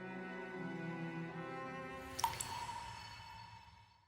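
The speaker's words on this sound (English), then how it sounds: "Someone left the faucet on?" Water drips like a faucet left running in the Soul Calibur VI fighting game, with a couple of crisp drops midway over a steady, humming tonal background that fades out.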